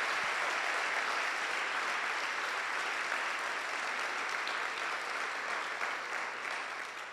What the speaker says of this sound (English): a round of applause for organizing a fantastic conference.